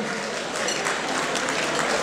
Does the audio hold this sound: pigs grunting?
no